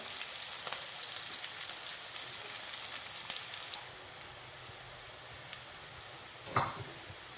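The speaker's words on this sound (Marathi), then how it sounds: "कांदा असं छान गुलाबी रंगावर परतलेला आहे।" Chopped onions frying in a pan for a dhaba-style paneer butter masala give a steady, close crackling sizzle, a bit louder in the first few seconds and then easing, with one brief clatter near the end.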